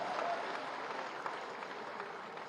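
A crowd at a public speech event in Gorakhpur breaks into steady, dense applause, a continuous wash of clapping that holds evenly and fades slightly toward the end, with no voices over it.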